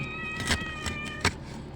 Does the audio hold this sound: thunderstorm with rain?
no